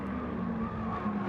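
A Mazda MX-5 race car engine revs at Laguna Seca, heard as a steady, loud, buzzing engine drone over a brief moment with no talking.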